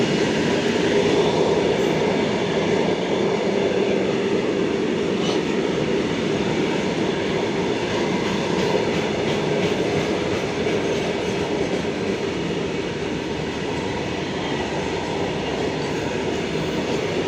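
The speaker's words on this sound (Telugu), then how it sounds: "Krishnarajapuram wag 9 locomotive goods train full చేస్తుంది చూడండి" A WAG-9 electric locomotive hauling a goods train rumbles past steadily and close by near Ichchapuram railway station, a continuous heavy rolling roar with faint clattering of wagons throughout.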